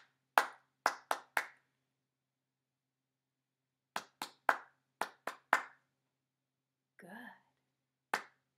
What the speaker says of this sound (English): Clap my pattern back to me.